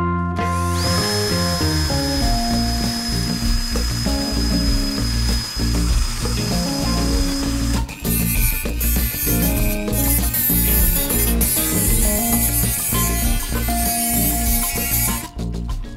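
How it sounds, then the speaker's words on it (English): A Dremel with sanding discs and a drill with a wire brush work on MG Midget Rostyle steel wheels, giving loud, continuous high-speed grinding and whirring with a shifting pitch and brief stops and restarts. "Got a Dremel with sanding discs and a drill with a wire brush."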